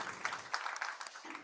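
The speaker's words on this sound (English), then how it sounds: "Please give another round of applause to Martin for his contribution." Audience applause at an academic symposium on brain connectivity, a short burst of scattered clapping from a room of listeners, faint and brief.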